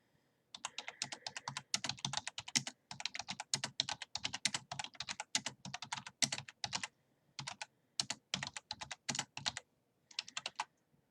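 Someone types on a computer keyboard in rapid bursts of crisp, close key clicks. Brief pauses separate runs of keystrokes, and no voices are heard.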